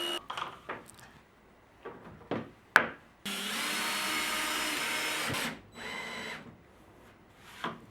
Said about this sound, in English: With a 25mm Forstner drill, you drill a hole in the plate into which you then knock the bushing.